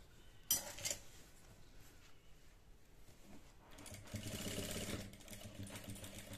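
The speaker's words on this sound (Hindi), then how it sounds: "एकदम किनारे किनारे सिलाई चलानी है।" An electric sewing machine stitches gota patti trim along the edge of a neckline: a soft clunk, then quiet handling, followed by a steady close whirring run of stitches, with faint clinks of metal.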